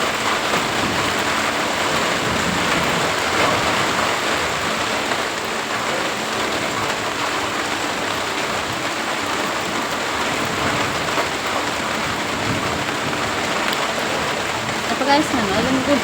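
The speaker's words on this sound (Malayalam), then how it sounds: "ഇവിടെ ഇങ്ങനെ ഇരിക്കണം മഴയൊക്കെ കണ്ടു" Rain falls steadily and evenly, a dense continuous hiss that fills the whole stretch at a fairly close, moderate level, with only a slight swell near the end.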